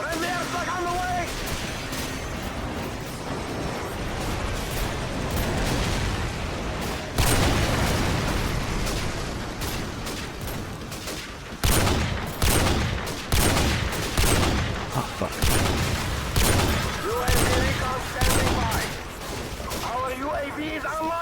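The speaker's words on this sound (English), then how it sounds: "Friendly airstrike on the way." Airstrike explosions and heavy gunfire in Call of Duty 4 fill the scene, with dense rumbling blasts and rapid bursts that grow louder and choppier in the second half while someone talks over them.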